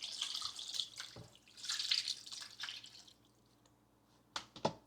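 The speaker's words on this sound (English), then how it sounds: "So I'm just gonna pour this water in." Water poured into a cooking pot for Nigerian party jollof rice, a soft splashing trickle in bursts that fades out, followed by a couple of sharp clinks.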